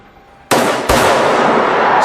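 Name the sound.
gunshots in zombie hospital recap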